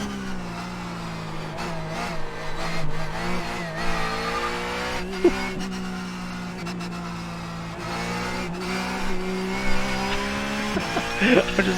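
Race car engine in the iRacing sim, played through a Simucube 2 Pro wheel setup, droning steadily and rising under throttle with brief tire squeals near the end, continuous and fairly close.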